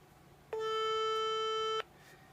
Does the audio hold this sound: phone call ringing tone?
yes